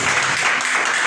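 Church congregation applauding in praise during a worship service, a dense, steady wash of clapping filling the short moment at close range.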